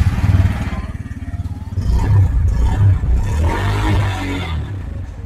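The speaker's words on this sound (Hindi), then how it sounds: "सो अब मैं आपको इस गाड़ी का एग्जॉस्ट साउंड सुना देता हूँ।" A 2024 Bajaj Pulsar N160 motorcycle's exhaust, recorded up close and alone, idling with a rhythmic thump before it revs up and holds a raised, throaty note.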